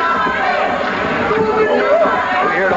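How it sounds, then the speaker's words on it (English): A wrestling arena crowd, watching a bout with Bob Backlund, yells and chatters in a dense, close roar with rising shouts and chant-like calls, heard together with a commentator's talk. "We hear the whole crowd yelling, Bobby, Bobby."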